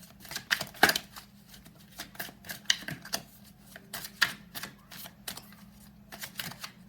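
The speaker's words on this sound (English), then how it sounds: "Give them a really good shuffle." A deck of oracle cards is shuffled by hand in a quiet room, giving soft, uneven riffling and tapping bursts that recur irregularly at low volume.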